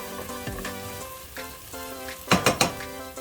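Onions sizzling and frying in a pan while being cooked down for a shrimp fettuccine Alfredo, a steady close hiss with a few sharper clinks and scrapes of a utensil near the end.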